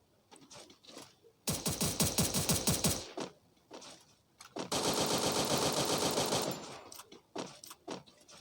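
Bursts of rapid automatic gunfire in Counter-Strike: a short rattling volley, a pause, then a longer sustained burst, loud and close with faint background game sounds between.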